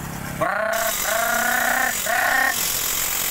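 Motorcycle fitted with a Kou super open exhaust pipe, revved in three sharp, loud blips over a rough idle, each burst a raspy, buzzing roar that drops back to the idle.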